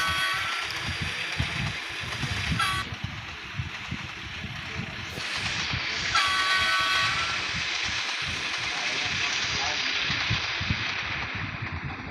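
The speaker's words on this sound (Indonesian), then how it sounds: "Keretanya mundur sendiri teman-teman." A KRL commuter train at Duri station rolls backward, its steady rumble and rail noise carrying on under wind buffeting against the microphone, with brief higher squeals partway through.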